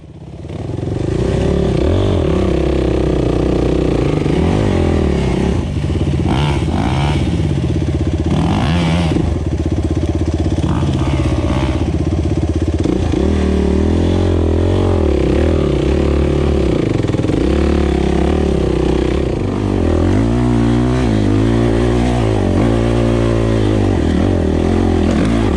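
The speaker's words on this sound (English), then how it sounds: "Scott on his WR450 picked a much better line" A new Yamaha WR450F dirt bike climbs a steep hill, its engine loud and close throughout, revving and surging in waves as the throttle opens and eases, with no voices over it.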